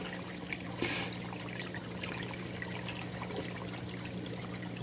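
Water from two pumps running at about 600 gallons an hour flows over a weir, making a faint, steady trickle and splash.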